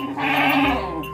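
A village goat recovering from a leg injury lets out one loud, close, wavering bleat lasting about a second.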